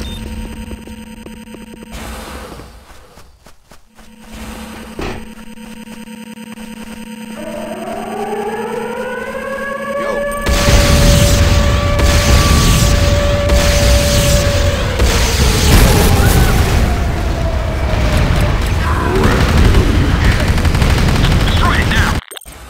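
Explosions and gunfire hit a GDI Weapons Factory in the game Renegade, a loud, dense barrage with booms and a rising siren-like whine, growing heavier and sustained after the first third.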